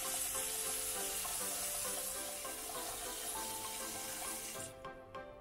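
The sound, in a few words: tap water filling a ramen stock pot with kombu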